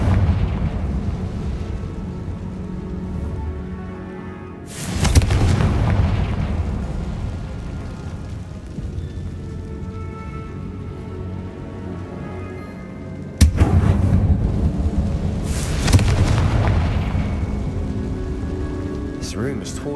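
In the Hogwarts Legacy video game, a Confringo spell explodes inside a tomb chamber. Two loud, sudden blasts land several seconds apart, each followed by a long crackling, rumbling tail over a steady background wash.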